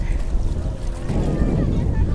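Racing boat with a 25-horsepower engine speeding across open water during a boat race, a steady loud rush of engine and hull noise mixed with wind buffeting the microphone.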